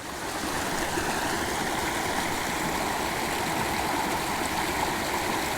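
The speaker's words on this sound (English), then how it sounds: "this is just a perfect little forest creek" A small forest mountain creek flows in a steady, close, full rushing babble that continues unbroken throughout, with no voices.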